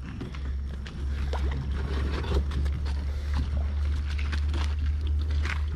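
A small boat's engine, readied for an evening of nipah crab hunting by a bridge, starts after a brief pause and settles into a steady, loud low hum with scattered clicks over it.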